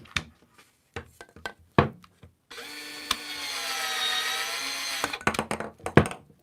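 A Milwaukee M12 cordless plastic pipe cutter whirs through 1.5 inch ABS pipe in one sustained burst lasting a few seconds, framed by clicks and knocks of handling before and after.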